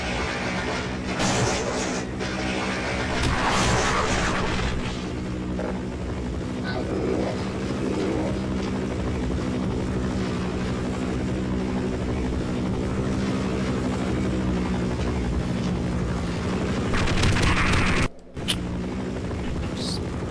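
A helicopter in the video game Half-Life drones steadily with low rotor rumble throughout, under mixed game noise and a brief cut near the end, while a person talks over it.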